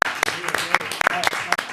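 Scattered hand claps from a small audience at a city council meeting, a handful of sharp, separate claps spaced irregularly, fairly close and moderately loud, with no one talking over them.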